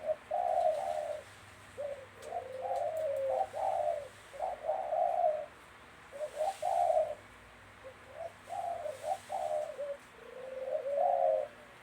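A captive wild dove, two weeks in a trapping enclosure, coos in quick, rolling phrases, repeated several times with brief pauses, clear and fairly close against a faint background hiss.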